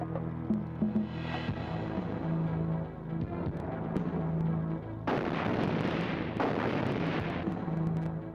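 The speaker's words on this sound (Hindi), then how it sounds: "चलाओ गोली।" Gunfire in a Hindi-dubbed Hollywood action movie: heavy booming shots and blasts over a dense, rumbling soundtrack, with sharp louder bursts toward the end.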